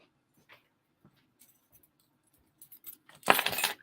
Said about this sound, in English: that was my keys making that noise